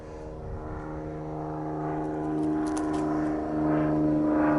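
A propeller airplane drones past, a steady low engine hum that swells slightly as it approaches, heard outdoors with nearby traffic-like rumble underneath.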